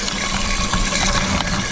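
Pond pump outlet fitted with a venturi that draws in air, churning and splashing water steadily and close by throughout, with no talking.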